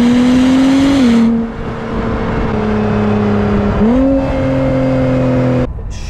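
A 2022 Acura NSX Type-S V6 engine accelerating hard, its deep, loud note rising steadily through the revs with brief dips at gear shifts, heard close and alone.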